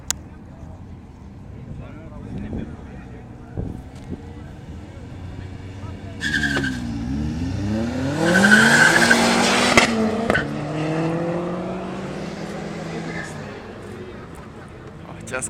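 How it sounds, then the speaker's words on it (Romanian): Volkswagen Polo GTI and Opel Astra GTS race on an airport track, tires squealing as engines roar past at close range, the loud skidding rising around the middle and fading while a crowd and voices talk throughout. "Urmează o cursă între Volkswagen Polo GTI și Opel Astra"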